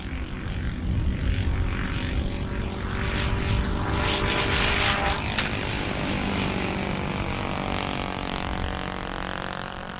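A small gasoline-engine unmanned weather aircraft flies past with a steady, continuous propeller drone that swells slightly toward the middle and holds at moderate loudness throughout.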